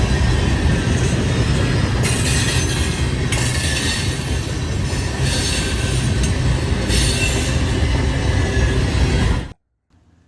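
A freight train with CSX and Norfolk Southern locomotives rolls past up close, a loud continuous roar of wheels on rail with metallic squeal and clatter, cutting off abruptly near the end.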